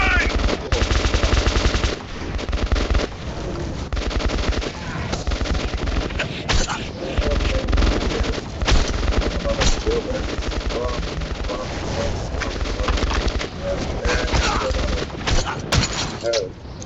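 Sustained automatic gunfire in the video game Metro 2033 Redux: loud, dense machine-gun bursts and shots that run almost without a break, with some voices mixed in.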